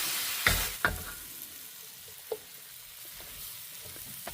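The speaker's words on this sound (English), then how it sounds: "there's still residual heat in the wok, so I'm just going to give it a stir" Green beans with garlic, MSG and crushed roasted sesame seeds are stirred in a hot wok off the heat, giving a few scattered scraping clatters and soft sizzling over a quiet background.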